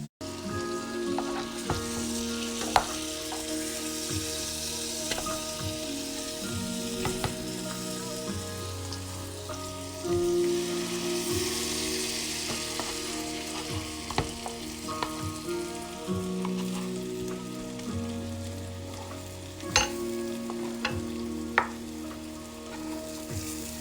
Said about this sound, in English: I'm cooking these at a medium-high heat because I want to get some nice browning on them.